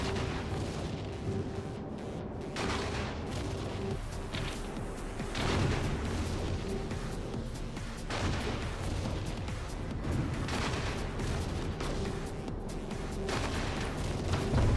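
Spaceship weapons focus firing in the game Eve Echoes, a dense barrage of booming shots and blasts overlapping steadily, loud and continuous without speech.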